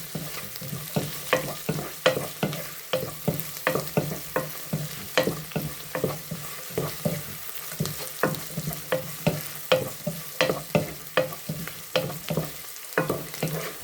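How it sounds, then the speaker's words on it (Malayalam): Chopped onions sauté in a hot pan for onion tomato sambar, a steady sizzle broken by frequent scraping stirs of a spoon against the pan, close and fairly loud, with no talking. "നന്നായി വഴണ്ടി വരട്ടെ."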